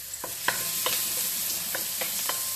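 Garlic sautéing over low heat in a pan while making Caribbean saffron vegetable rice, a soft steady sizzle broken by sharp scraping and stirring taps every half second or so, with no talk.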